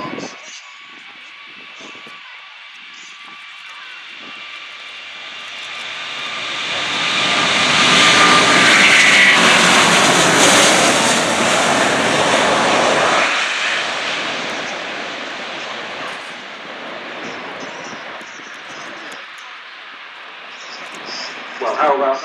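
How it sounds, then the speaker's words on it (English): Airbus A380 jet airliner on its takeoff run at the Farnborough International Airshow, a distant roar of engines building to a loud broad peak midway, then slowly fading as it climbs away. "just starting the takeoff run now. Here it comes, this huge, lovely Airbus A380."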